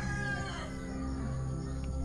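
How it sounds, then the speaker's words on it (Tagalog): Roosters crow at a rural campsite, a faint, continuous layer of fowl calls heard over a steady low background hum with no talking. "Yung puro tilaok lang ng manok"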